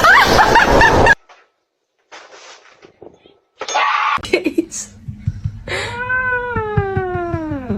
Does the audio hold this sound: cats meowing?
yes